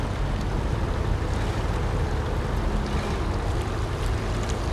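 A truck engine running in the video game SnowRunner, a dense, steady low rumble that holds constant and loud throughout, with no voices over it.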